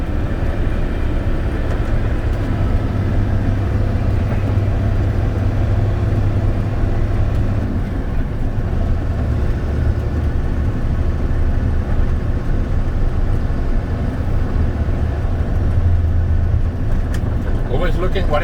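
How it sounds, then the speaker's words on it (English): Steady road noise from a car cruising at 45 mph, a continuous low rumble of engine and tires throughout, with some speech-like sound mixed in. "look at my speed to make sure I'm driving at 45 miles per hour"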